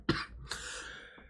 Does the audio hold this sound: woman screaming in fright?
no